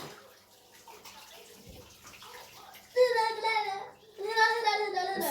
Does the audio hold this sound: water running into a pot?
yes